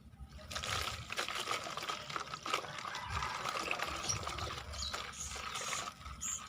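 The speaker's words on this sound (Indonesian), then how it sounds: "kemudian kita tambahkan air." Water poured into a container of brown sugar and stale rice gives a steady close trickling splash that runs continuously for several seconds.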